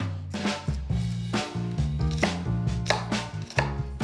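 Knife chopping garlic and the Trinity vegetables (onion, celery, bell pepper) on a cutting board in a home kitchen, with steady close rapid knocks through most of the stretch and a few brief pauses.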